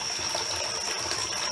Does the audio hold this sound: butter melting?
no